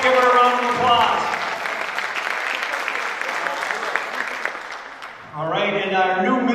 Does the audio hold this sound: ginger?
no